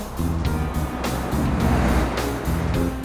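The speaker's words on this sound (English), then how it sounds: "who drives that type of car?" A car's engine rumbles steadily close by, its noise swelling as it drives past, with no talking.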